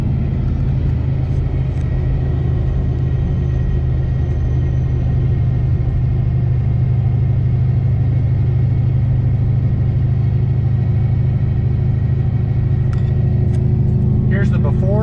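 Steady low cabin rumble inside a Ford Shelby GT500 cruising at 45 mph before sound deadening, continuous road and engine drone with no talk, a few faint rattles near the end.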